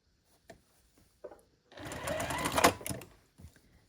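A sewing machine runs a short burst of stitching across a seam in a scrappy sampler quilt block, lasting about a second and a half after a few faint handling clicks.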